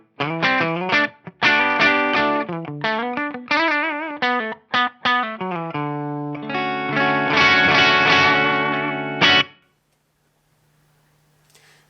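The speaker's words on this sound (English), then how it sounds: "I actually think the clean channel on this amp sounds killer" Electric guitar through a Marshall JCM800 2210 amp on its clean channel, a run of picked single notes and chords, then a sustained ringing chord that cuts off into near silence.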